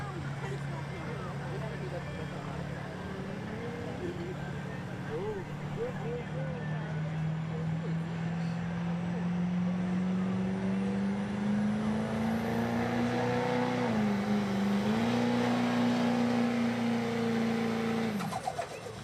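A 2003 Chevy diesel truck makes a test pull of the sled at a truck pull, its engine droning loudly and rising steadily in pitch throughout, with a brief dip near the end and crowd and announcer noise underneath.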